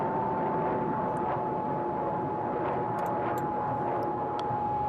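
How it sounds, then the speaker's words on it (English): Steady drone of a light aircraft engine throttled back to idle in flight, loud and continuous with a constant tonal hum and rushing airflow, no talking. "So what I'm going to do is pull the engine back to idle."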